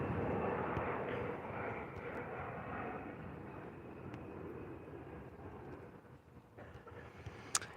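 Airplane passing near San Diego airport, heard as a broad, steady rumbling roar with wind buffeting, fairly loud and continuous, slowly easing toward the end.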